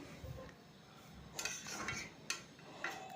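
A cooking pot of Bengali fish head muri ghonto with rice and potato is stirred, giving a few scattered clinks and scrapes of a spoon against the pot over a low background hiss.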